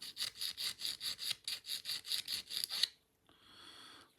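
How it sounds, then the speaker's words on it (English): A coarse file rasps along the edge of a Tokyo Marui Sig Sauer P226 airsoft pistol slide in about a dozen quick, even back-and-forth strokes, close and alone, followed by a softer brief scrape. "So I'm going to use my coarser file for this. I'm just going to take the edge off of that there."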